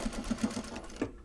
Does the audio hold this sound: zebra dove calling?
no